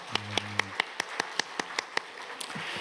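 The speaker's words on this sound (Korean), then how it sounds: "자, 다시 한 박수로 한번 격려합시다." Scattered claps ring out in a church sanctuary during a Sunday service, about a dozen sharp, evenly spaced hand strikes over a soft background hum.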